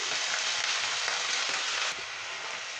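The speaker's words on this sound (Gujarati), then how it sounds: "અને બેથી ત્રણ ચમચી જેટલું પાણી નાખી દઈશું" Water poured into a hot oil tempering of mustard seeds, white sesame, chili pieces and curry leaves makes a loud, dense, continuous sizzle that eases off slightly near the end.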